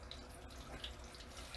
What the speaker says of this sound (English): we're going to go ahead and add this, just 4 cups of water right here.